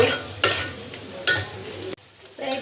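Food sizzles in hot oil while a utensil stirs and scrapes the pan in a few loud sweeps, close up.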